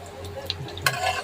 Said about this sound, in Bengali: আলুগুলো দেওয়ার পর আলুগুলো আস্তে আস্তে করে ভাজতে শুরু করবো।